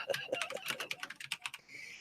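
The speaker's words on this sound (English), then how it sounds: "Darn keyboard." Rapid keystrokes on a computer keyboard clatter in uneven bursts, close and fairly quiet, during a live radio-style stream with no speech over them.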